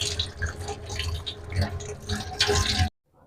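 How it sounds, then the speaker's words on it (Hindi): Water is poured over bitter gourds to rinse them, a close, splashy steady stream with dripping that runs for about three seconds and then stops abruptly. "इसके ऊपर थोड़ा सा पानी गुजार लेते हैं ताकि अच्छी तरह ये साफ हो जाए"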